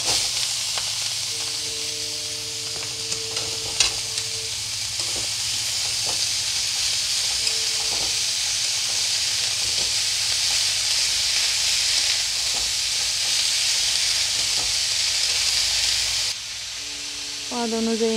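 Cabbage is tipped into a pan of frying onions and green chillies for an Assamese fish curry, giving a steady close sizzle and hiss that runs throughout with a few faint clinks of stirring.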